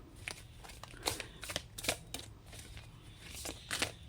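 Tarot cards being shuffled by hand, soft crisp flicks and riffles in irregular bursts, close and quiet with no talk.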